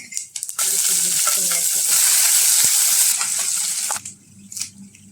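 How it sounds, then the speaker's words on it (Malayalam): Mustard seeds, urad dal and cumin frying in hot oil for a Kongu-style biriyani, a loud dense sizzle bursting in after quiet stirring, holding steady for about three seconds, then fading back to low clatter. "ചൂടായ ഓയിലിലേക്ക് 1 ടീസ്പൂൺ കടുക് ഇട്ട് കൊടുക്കാം, 1 ടീസ്പൂൺ ഉഴുന്നുപരിപ്പ്, 1/4 ടീസ്പൂണ് ജീരകം ഇട്ട് കൊടുക്കുന്നുണ്ട്"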